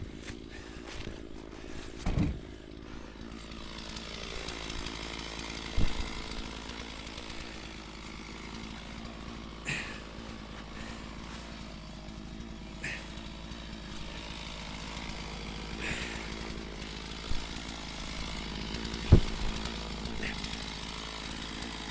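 A chainsaw drones steadily at a moderate distance while cutting large firewood rounds, with a few louder knocks and thuds scattered across the long, unbroken run.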